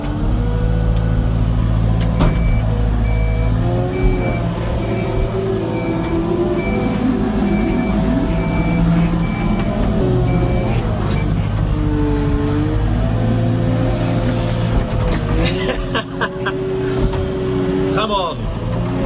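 A JCB-style MLT 630 telehandler engine drones steadily up close throughout while muck spreading in heavy field conditions, with shifting revs and rumbling mechanical noise and occasional clanks, loud and continuous.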